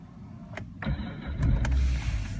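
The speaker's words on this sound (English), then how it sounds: "You can see that it's not a problem for this car to start." A BMW 535d E60 diesel engine cold-starting at minus 7 degrees: clicks, a brief whirring crank, then the engine catches and settles into a low, rumbling idle nearby.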